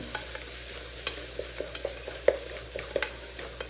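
Onions and green chillies frying in coconut oil for a liver roast, with a soft steady sizzle and repeated scraping stirs of a spoon against the pan, close and without talk.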